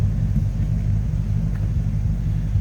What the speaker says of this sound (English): Just a nice sounding car.